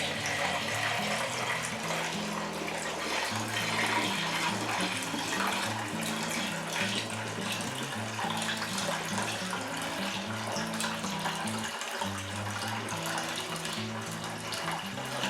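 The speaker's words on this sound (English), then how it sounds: "all I'm going to do now is nice and gently pour my wine in" Steady pouring and trickling of elderflower wine through a funnel, continuous and close, with a gurgling splash throughout and no talking.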